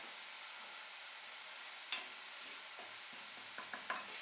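A tablespoon of flour toasting in a frying pan over medium heat, a faint dry hiss with a few soft scraping taps of a utensil near the end, quiet and without talk.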